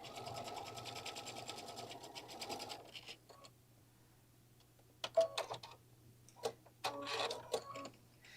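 A sewing machine stitches through soft and stable bag foam in a rapid, whirring run for about three seconds, then stops; short bursts of stitching and handling clicks follow, close and fairly quiet.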